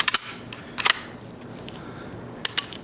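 A .22 rifle is dry-fired, its trigger and action giving a few sharp, close metallic clicks, some in quick pairs, separated by short quiet pauses.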